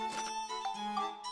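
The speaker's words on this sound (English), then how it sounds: "I'm getting texts on my phone" Short bright electronic chime from a phone signalling incoming text messages, a quick run of clear ringing tones lasting about a second, close and moderately loud with no voices.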